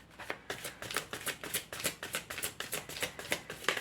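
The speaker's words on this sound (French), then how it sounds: "Alors, je tire une autre carte." An oracle card deck is shuffled before a card is drawn, giving a rapid, even run of about a dozen crisp card riffles up close with no talking.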